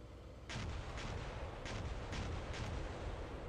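Mortar fire falls on tanks in the tank simulator game Steel Beasts, a deep continuous rumble of artillery with several sharper bursts spaced through it, starting abruptly and staying loud throughout.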